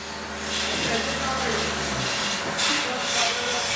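Aerosol cleaning spray hisses steadily on the engine of a Renault Clio 1 with a 1.2 motor in a workshop, a continuous broadband spray over a low hum that cuts out midway.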